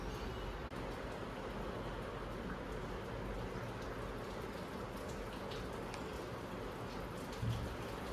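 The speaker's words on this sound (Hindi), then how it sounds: "अब बारिश थोड़ी सी धीरे हो गई है एक्चुअली" Light rain falls in a steady, soft patter outdoors near a balcony, a constant even wash of drops with no voices present.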